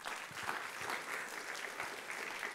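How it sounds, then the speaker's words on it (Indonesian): A church congregation applauds for God in a steady, dense wash of clapping, fairly faint and distant, with no voices standing out. "Beri tepuk tangan buat Tuhan."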